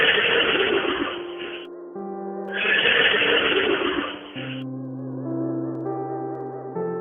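A horse neighs twice, with loud, shrill whinnies separated by a short gap, and no voices present.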